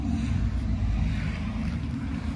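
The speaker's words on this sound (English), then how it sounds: "Don't mind the motorcycle." A motorcycle drones outdoors beside a garden as a steady low engine rumble that fills the whole moment, mixed with some wind noise and no speech.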